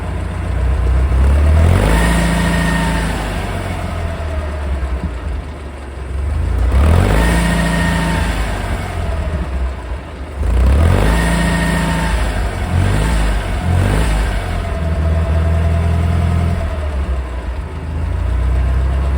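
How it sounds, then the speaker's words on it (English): An International 2424 tractor engine idles steadily with a low, throbbing drone, a few rhythmic swells in loudness and faint repeated tapping noises coming from within the engine, with no talking. "You can still hear some tapping and noises in the engine."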